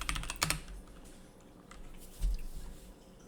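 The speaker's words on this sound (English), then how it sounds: "We'll type Jupyter Notebook" Computer keyboard keys are typed in a quick burst of close, clicky taps, followed by quieter scattered keystrokes and a dull thump.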